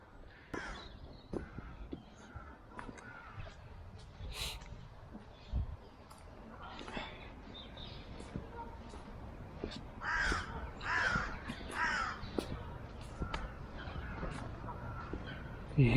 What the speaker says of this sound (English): You hear all kind of birds here.